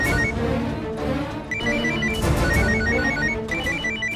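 A telephone rings in a home, bright repeated electronic trills in short bursts over a low musical background.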